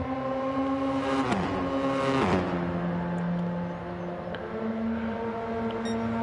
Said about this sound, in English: I don't like the sound of these cars.